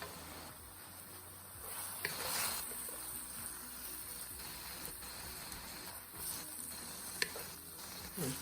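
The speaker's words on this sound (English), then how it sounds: "we gotta get the hot wok to heat up again to start sizzling" Soft, steady sizzling of kimchi stir-frying in a hot wok, with occasional stirring scrapes and brief louder bursts over the constant hiss.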